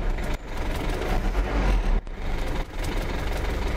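A Ford Ranger MK1 engine runs after its starter has been replaced. It gives a loud, rough, continuous rumble up close, with a brief dip partway through.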